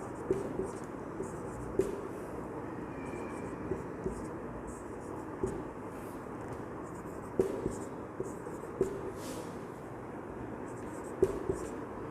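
Chalk or marker writing on a board during a Vedic astrology lesson, heard as faint scratchy taps and strokes in short bursts across the clip, close by, over a steady background hiss with no speech.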